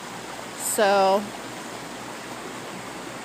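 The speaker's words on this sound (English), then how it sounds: "still a river running through the bus stop" Floodwater rushes as a steady broadband roar through a bus stop at Broadway and Iris in Boulder during flooding, continuous throughout, with a brief spoken word over it near the start.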